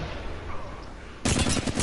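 Sustained burst of rapid gunfire from an ultimate ability laying down cover fire in a multiplayer shooter video game, erupting loudly and close after a quieter stretch of game ambience.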